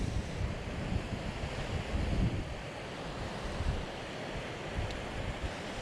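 Gusting wind roars across a salmon river falls pool at the end of the salmon season, a loud, dense rush buffeting the microphone in uneven surges, with rushing water blended underneath and no talking.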